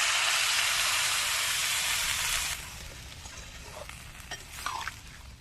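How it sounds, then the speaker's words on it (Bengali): Shukto, a Bengali mixed-vegetable curry made with water instead of milk, bubbles in a pan, giving a loud steady hiss that eases after a couple of seconds into softer simmering with faint pops. "যে দেখো আমাদের শুক্তো কিন্তু ফুটছে।"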